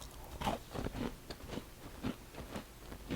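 A crunchy potato snack with a strong black-pepper flavour is bitten and chewed up close, giving a run of sharp, dry crunches at an irregular pace with no talking.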